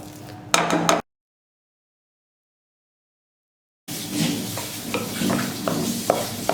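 Potatoes being stirred with butter in a pan, scraping and clinking bursts before a stretch of silence, then steady stirring with soft sizzle and spoon knocks returning.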